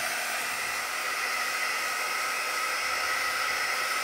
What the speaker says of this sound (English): I do have a heat gun and I'm going to just lightly